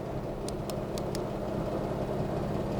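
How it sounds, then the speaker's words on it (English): A Jeep's engine cooling fan running outdoors, giving a constant loud broadband whoosh with a low engine rumble underneath, steady throughout, plus a few brief sharp ticks near the start. "Sorry for the noise, the fan's running on the Jeep"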